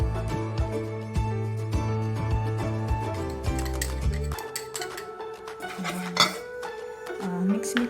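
Flour and tapioca starch are stirred together in a bowl for kutchinta, and a utensil clinks and scrapes steadily against the side. Metallic chinks and rattles come close and at a moderate level.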